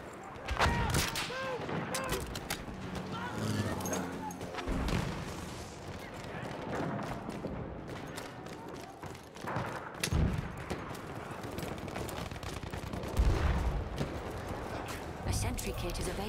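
Battlefield 1 match with constant gunfire, including machine gun bursts, sharp shots and occasional heavy booms under a dense battle din, with game voice lines speaking over it.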